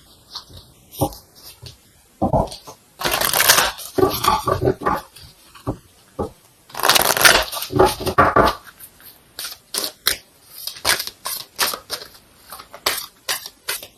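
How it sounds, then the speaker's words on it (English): Oracle cards are shuffled by hand in uneven bursts of papery riffling and slapping, with louder flurries near the start and middle and lighter, scattered flicks toward the end. "let's go ahead and get an oracle card here to confirm this"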